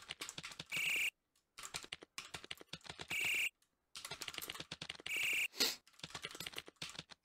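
Typing game built in Game Maker Studio, with rapid keyboard key clicks in bursts and short bright electronic feedback tones chiming at intervals, separated by brief silent gaps, no voices.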